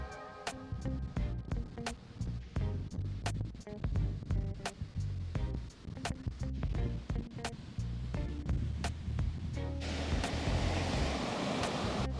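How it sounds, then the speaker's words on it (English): Steady wind rush and rolling surf on a very windy beach at Costa Mujeres, Mexico, with many sharp clicks and knocks scattered on top and the roar thickening toward the end. "Very windy today."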